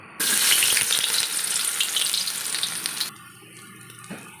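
Garlic and onion hit hot oil in a pan, bursting into a loud, close sizzle that fades slightly over three seconds and then drops to quiet, with a small knock near the end.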